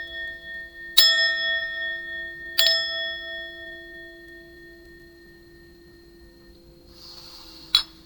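A bell rung to cleanse a space gives clear metallic strikes, two close together early on and one more near the end, each ringing out with a long, pure, slowly fading tone in an otherwise quiet room.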